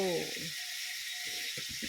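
Salted fish fries in fresh cooking oil, giving a steady faint hiss and sizzle with brief louder crackles as it cooks.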